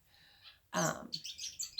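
Small wild birds near a nesting tree outside chirp in quick bright bursts, a loud call cluster followed by rapid twittering, faint and close-by.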